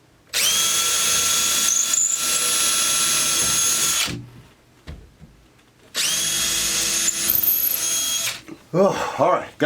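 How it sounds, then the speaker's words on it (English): A power drill whirs loudly in two sustained bursts of about four and three seconds, separated by a quieter pause with faint handling noise. "So let's drill some holes."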